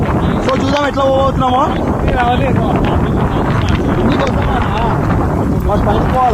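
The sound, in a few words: strong wind blowing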